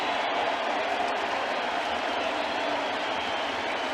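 The crowd at a Yankees versus Red Sox baseball game in the Bronx, heard as a steady, fairly faint wash of cheering and murmur with no distinct voices standing out.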